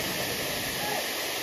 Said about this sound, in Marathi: एवढा मोठा धबधबा